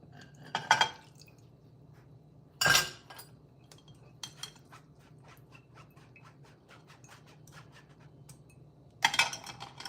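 Liquid drained from a pot of lumpy gelatin and coconut cream dessert mixture, with a few sharp clinks of metal against the pot and faint intermittent drips in between, close by in a quiet kitchen.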